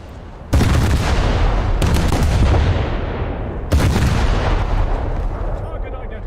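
Naval gun salvos fired at a cargo ship in a video game, with two heavy booming blasts whose long rumbling roar carries through most of the stretch, loud and close, and a third blast before it decays.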